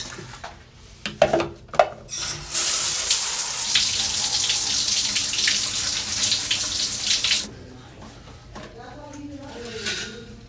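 A shower runs steadily for several seconds as a broad, hissing wash of water, preceded by a few clunks and handling knocks, then cuts off, leaving faint dripping and small movements.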